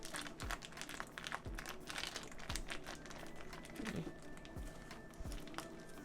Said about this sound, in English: And then I'm going to open up this bag.